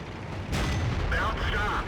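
A tank cannon firing in World of Tanks from a WZ132 light tank: a loud, heavy boom followed by a sustained rumbling tail with ringing metallic overtones.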